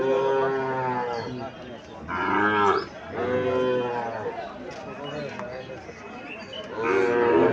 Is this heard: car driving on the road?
no